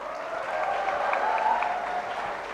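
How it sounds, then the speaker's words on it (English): An audience applauds a panel at the FICCI Frames 2024 event in a steady, moderately loud burst of clapping that lasts the whole stretch. "Can we have a big round of applause"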